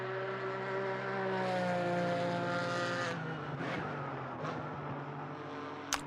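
GT racing cars at Silverstone, among them a Porsche, roaring past with a steady high engine whine that swells, then fades as the cars pull away, followed by another quick passing car and a brief sharp knock at the end.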